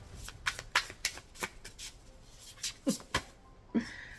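Close, crisp tarot card shuffling in quick irregular bursts of flicks and slaps, with a soft shuffle near the end.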